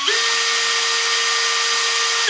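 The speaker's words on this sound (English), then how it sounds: "So in speed 1, it just rotates the drill slowly." A Makita cordless drill on speed setting 1 whirs steadily at a constant low speed, a continuous motor hum with a high whine, close and loud.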